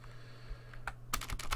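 Quiet keys clack on a computer keyboard while a short Arduino command is typed, with a few soft taps and then a quicker cluster of keystrokes close by.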